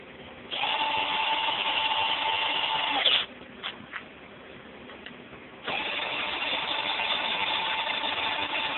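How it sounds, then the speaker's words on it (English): A power drill torques down bolts on a generator during crankshaft seal work, two sustained high whirring runs of a few seconds each, separated by a pause with faint clicks and handling, close and loud. "I don't know if that's good for a drill to do that"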